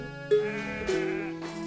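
Sheep in a farm paddock shared with cows bleat two or three times in quick succession, near and clear over a quiet outdoor background.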